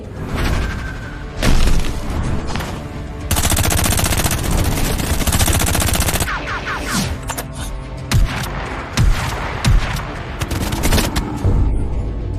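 Sustained rapid gunfire in an animated series rattles loudly and continuously, with bursts of automatic fire and heavy booms layered over a dense, chaotic battle din.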